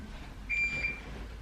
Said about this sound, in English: that's the timer for the stuff in the oven